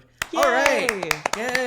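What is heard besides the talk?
clapping in the background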